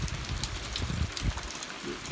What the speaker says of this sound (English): it's a slow rain, which is good.